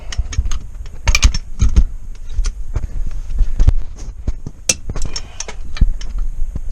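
A torque wrench set to 100 foot-pounds clicks in a series of sharp, close metallic snaps while tightening lug nuts on a Toyota Celica, with ratcheting and handling noises between the clicks.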